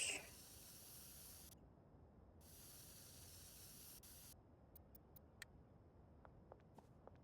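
Spray paint hissing in a video game, a long steady hiss broken by brief gaps, followed by short sharp clicks and taps near the end.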